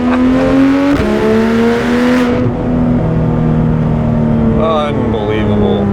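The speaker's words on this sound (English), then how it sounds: "Car held the RPMs, dumped that clutch." A Porsche 991 911 GT3 RS with PDK launching hard, its engine loud and close, revving high and then dropping through a rapid gear change before climbing again.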